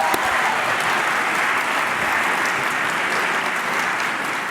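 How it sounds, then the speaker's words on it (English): A crowd at a college graduation applauds, dense continuous clapping at even loudness from start to finish. "Give her a round of applause."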